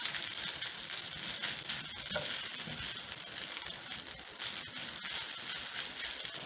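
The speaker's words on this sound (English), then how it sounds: "My rice is cooking." Stir-fry rice sizzles steadily in a pan in a home kitchen, a dense, even crackling hiss with occasional faint scrapes and no talking.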